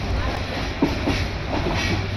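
Mohanganj Express passenger train running at speed, a steady broadband rumble with faint rhythmic clatter of wheels over rail joints, heard continuously from on board.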